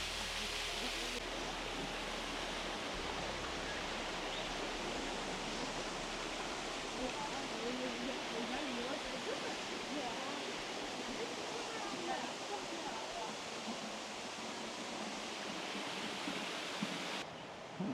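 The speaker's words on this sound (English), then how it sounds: "it's a stunning, beautiful waterfall just cascading down this cliff" A waterfall cascades down a cliff beside a river walk, a steady, full broadband roar that holds unbroken and close at hand from start to finish.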